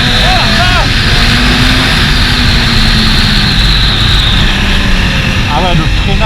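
Honda CBR 1000 RR Repsol sport bike at full throttle, its engine a loud, steady roar sustained throughout under wind noise, with a rising whine of revs and brief gear-change chirps.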